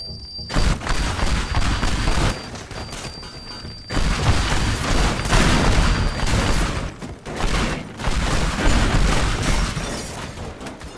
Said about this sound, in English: all right, and bombs now